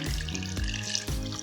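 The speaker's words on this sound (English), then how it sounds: "We have to add 1 quart of water" Water pouring into a blender with limes for Brazilian lemonade, a continuous close splashing gush with brief shifts in flow, loud and with no voices.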